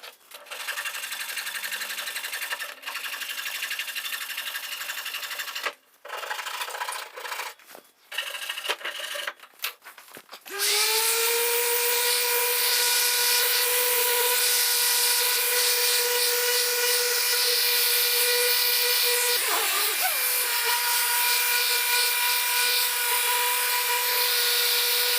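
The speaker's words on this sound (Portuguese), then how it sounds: "Então vamos lixar tudo, deixar tudo limpo" A power sander works oak barn door parts, running steady and loud for a long stretch after a few short starts and stops, with one brief dip partway through.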